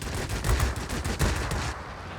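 Rapid bursts of 20mm cannon fire from an XF15C fighter in the World of Warplanes game, loud dense volleys of shots rising and falling over steady engine noise, with no talk.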